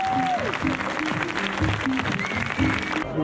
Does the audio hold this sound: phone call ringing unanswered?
no